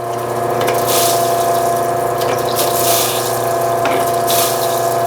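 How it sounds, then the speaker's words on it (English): Water running steadily on an opal polishing machine with a small reservoir wetting the turning stone, a constant loud wash with a motor hum beneath and a few brief surges, no voices. "I do have water in the reservoir down here, which is providing just a little bit of extra moisture as I'm turning the stone"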